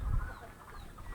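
A mother hen clucks softly outdoors by a village pond path in rural Bangladesh, a few low quiet clucks in a calm natural setting with no talking.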